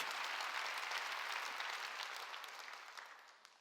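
Congregation clapping together at a Korean Sunday church worship service, a steady dense wash of applause that gradually fades toward the end.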